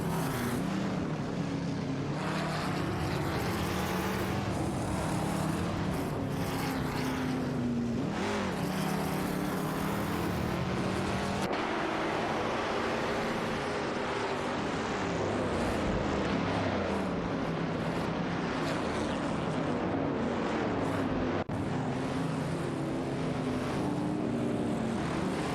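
Several race cars in an AI-driven racing game roar past one another as engines rise and fall in pitch through gear changes, a loud, continuous, layered drone with no talking.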